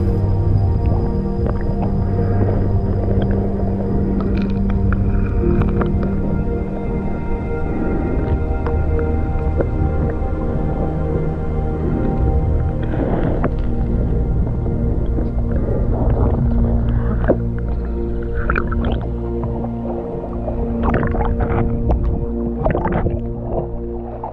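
An underwater suction pump used for gold prospecting drones as a dense, continuous motor rumble with steady humming tones, overlaid by gurgling, sucking and bubbling noises from the streambed material, loud and close for the whole stretch.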